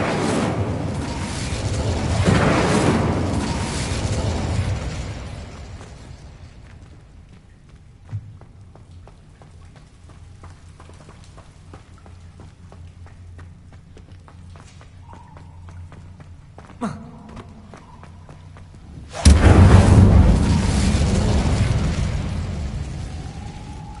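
A spell cast in Hogwarts Legacy: a loud burst near the start, then a quiet stretch with small pops, and a second sharp, loud fiery whoosh erupting near the end and roaring on.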